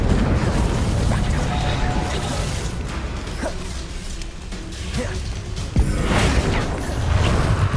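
An Incendio fire spell is cast in Hogwarts Legacy, making a dense, roaring burst of flame and whooshing magic with a sharp pop near the end, amid steady battle noise from the game.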